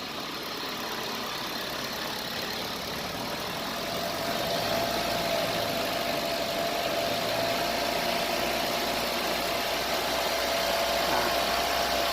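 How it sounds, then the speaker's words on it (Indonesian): Car engine held at a steady 2000 rpm during an air-conditioning pressure check with manifold gauges, giving a continuous mid-pitched hum and drone that rises slightly after a few seconds and then holds even. "putaran mesin kita atur pada posisi 2000 rpm"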